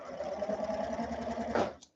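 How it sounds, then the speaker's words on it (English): A sewing machine stitching fabric runs in a steady, rapid mechanical whir for over a second, close and fairly loud, then stops abruptly. "when I put it under my sewing machine, I'm just sewing up those short ends."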